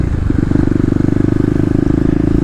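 A 2018 Kawasaki KLX250 with Stage 1 mods pulls up a wheelie in second gear, its single-cylinder engine thumping in a steady rapid pulse, loud and close.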